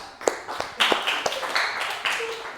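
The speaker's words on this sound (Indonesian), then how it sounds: "tepuk tangan Mas Fikri" Scattered clapping from a small class group during a microteaching lesson on Islamic religious education, a handful of separate sharp claps spread unevenly over a couple of seconds, fairly close and moderate in volume.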